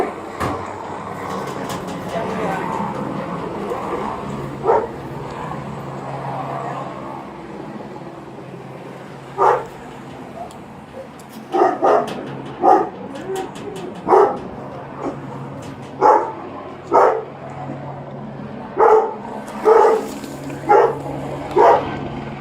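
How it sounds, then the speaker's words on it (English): A police dog barks repeatedly during a search, sharp loud barks arriving in irregular bursts that grow more frequent in the second half over a low rumbling background. "After an exhaustive search, the canine dog located Vasquez hiding in a crawl space under a nearby residence"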